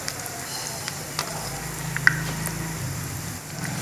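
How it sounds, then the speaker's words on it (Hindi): Chicken donuts fry in oil over low heat with a soft, even sizzle, broken by scattered small pops and light clicks. "इनको हमने हल्की आंच पे ब्राउन करना है।"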